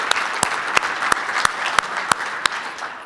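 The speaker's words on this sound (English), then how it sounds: "So, round of applause for everybody putting this together." A small conference audience at a tech event claps for the organizers, a brief patter of applause with a few sharper individual claps standing out at a steady rhythm.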